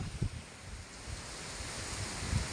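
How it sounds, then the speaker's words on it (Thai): Strong wind gusting outdoors in a rural garden, a steady broadband rush with low buffeting thumps against the microphone, swelling near the start and end, with no talk. "ลมโจนว่ะ"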